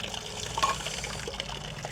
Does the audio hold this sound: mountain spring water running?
yes